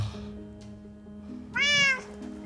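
A cat meows in the Minecraft video game: a single clear, drawn-out meow rises over quiet game ambience and fades after about half a second, with no voices alongside.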